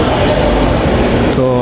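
A metro rail train runs with a loud, steady rumble and broadband rush heard from inside, ending in a rising tonal whine as it changes speed.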